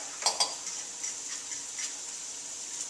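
Frittata batter cooking in a hot pan, a soft steady sizzle heard up close, with a couple of faint utensil taps at the start.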